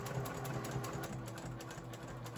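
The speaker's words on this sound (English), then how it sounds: "We're just going to go down and top stitch on both sides," A sewing machine topstitches a clear vinyl tote 1/8 inch from the edge with a 3 mm stitch length, giving a rapid, even mechanical chatter of needle strokes, close and continuous, with no talking.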